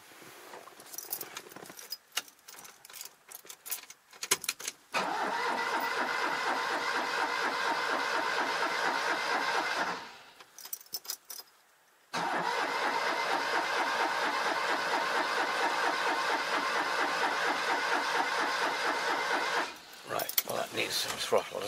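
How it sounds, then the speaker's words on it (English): An old Jaguar car is cranked and its engine catches, settling into a steady mid-pitched idle for several seconds, cutting out briefly, then running again; keys jangle and a few clicks come beforehand. "Right, I'll see if I can start it now."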